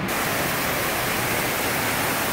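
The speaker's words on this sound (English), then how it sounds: "A little waterfall in there." Indoor waterfall in the middle of a Las Vegas casino, a loud steady broadband rush of falling water filling the whole moment with no voices.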